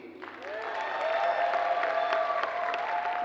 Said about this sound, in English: Round of applause for Keith.